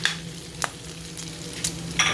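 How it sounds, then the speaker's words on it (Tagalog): Onion and garlic sautéing in a pan give a low steady sizzle with a few sharp stirring scrapes and utensil clicks spaced out over the clip, moderately quiet and without voices. "magkikisa na tayo ng sibuyas at bawang"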